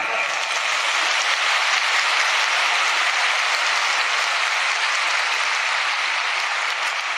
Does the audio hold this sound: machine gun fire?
no